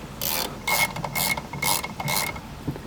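A hand ratchet clicks in quick bursts of rapid pawl ticks, close and clear with short pauses between strokes, while tightening the mounting bolts of a Hybrid Racing short shifter on a 2022+ Civic or 2023+ Integra.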